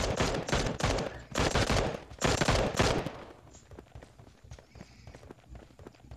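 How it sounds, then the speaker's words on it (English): Bursts of rapid gunfire in PUBG Mobile rattle in quick volleys over the first half, then fade to quiet background noise. "Ooh, it's gunshots."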